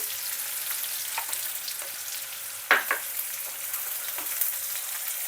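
Onions browning in a pan give off a steady sizzling hiss, with a few clinks and scrapes of stirring, close and without voices.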